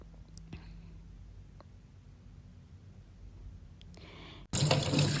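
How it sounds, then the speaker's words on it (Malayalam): Running tap water pours steadily into a sink as an aloe vera leaf is washed, with soft handling noises, then the flow suddenly gets louder near the end. "അലോവേരൻ്റെ തണ്ടിൽ നന്നായിട്ട് വാഷ് ചെയ്തിട്ട് എടുക്കാം കേട്ടോ"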